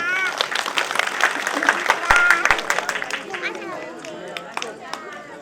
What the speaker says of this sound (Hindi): मेहरबान सिंह जी के लिए भी एक जोरदार तालियां बजाइए